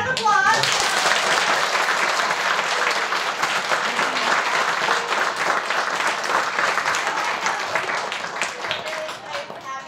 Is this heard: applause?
yes